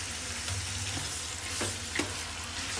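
Two kilograms of chicken frying with browned onions in a pot for biryani, a steady close sizzle with a few soft stirring knocks, no voices.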